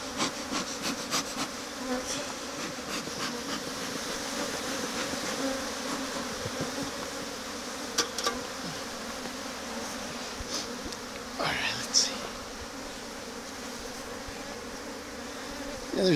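Honey bees drone steadily at an opened hive during requeening, a dense continuous buzz close up with occasional louder passes of individual bees and faint handling knocks.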